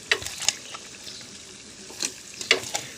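Chili, turmeric, ginger and garlic spices are stir-fried in a pan, a close, soft sizzle with intermittent scraping stirs.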